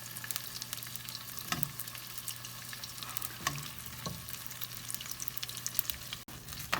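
Potatoes fry in hot oil in a pan, a steady close sizzle with a few soft bumps and stirs, no voices.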